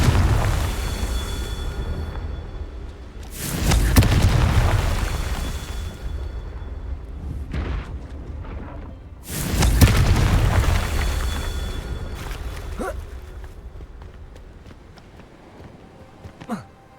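Two big Confringo explosion blasts from Hogwarts Legacy, each a loud booming burst that swells and then slowly dies away, set several seconds apart over a low background hum.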